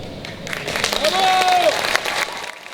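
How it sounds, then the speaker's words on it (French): Audience applause at an InsaLan contest, a burst of clapping lasting about two seconds with a thin whistling tone drifting above it before fading out. "On applaudit bien fort."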